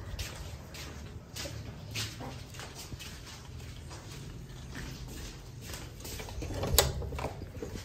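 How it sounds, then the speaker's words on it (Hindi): A rolling metal shutter is operated, giving faint, steady mechanical rattling and clanking with scattered sharp ticks and one louder clunk toward the end. "तो अभी बाहर से दिखाते हैं शटर"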